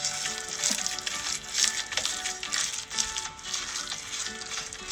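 A carrot manti mixture being stirred with a spoon, giving a continuous wet, fizzy hiss with soft swishing pulses, fairly quiet and close.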